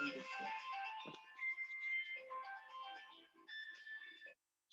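A mobile phone ringtone plays in a classroom lecture, a tonal melodic tune repeating for several seconds at moderate level before cutting off abruptly.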